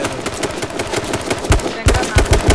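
AK rifle fire in H1Z1 rattles out in rapid, loud bursts of repeated shots with a brief gap before another volley, under faint talk.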